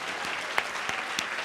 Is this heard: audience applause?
yes